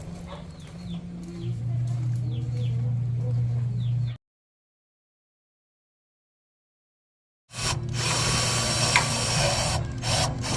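A power drill bores screw holes in wood while a temporary double-lock gate is assembled: a steady whirring hum with grinding texture that stops for about three seconds, then comes back louder.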